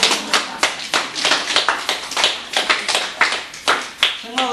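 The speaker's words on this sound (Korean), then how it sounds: "아 이런 박수가 나오네." A small audience at a Buddhist sutra lecture claps in loose, rhythmic bursts, individual hand claps distinct and close, with a voice briefly heard near the end.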